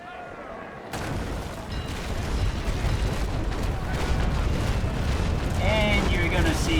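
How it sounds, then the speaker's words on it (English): Broadside cannon fire from a naval video game: a sudden, heavy roar of many guns firing at once, which then carries on as a dense, rumbling barrage of blasts and crackling impacts. It starts after a quiet moment and grows steadily louder. "you're going to see what a perfect broadside strike does"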